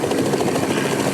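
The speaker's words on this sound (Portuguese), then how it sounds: "O helicóptero da Record flagrou o momento exato do resgate." A TV news helicopter over a rescue gives a steady, rapid rotor chop, loud and continuous throughout with no pauses.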